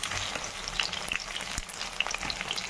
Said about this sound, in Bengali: পুরো মাছটা ভাজা হয়ে গেছে।